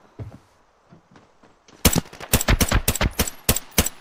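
M16 rifle gunfire in the video game Arena Breakout, a few faint distant shots followed by loud close rapid bursts of automatic fire.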